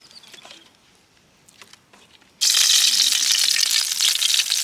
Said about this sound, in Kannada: ಈಗ ಒಲೆ ಹಚ್ಚಿ ಬಜ್ಜಿ ಹಾಕೋದಷ್ಟೇ